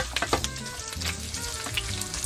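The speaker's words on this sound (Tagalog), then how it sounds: "every few seconds or so, stir lang. Para, you know, even ang pag-render ng tuba." Pork fat renders as humba is stir-fried in a pan, giving a busy, continuous sizzle with quick spatula scrapes close by.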